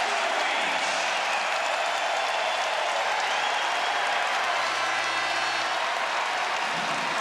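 Applause and cheering from a basketball arena crowd during a Big 12 men's game between TCU and Iowa State, a broad steady roar of clapping that fills the whole moment without pause.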